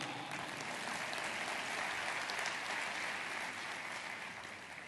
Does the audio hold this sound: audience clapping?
yes